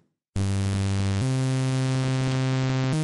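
A single sustained synth oscillator tone for a dubstep bass, buzzy and harmonically rich, holding steady with a couple of abrupt pitch steps, loud and alone.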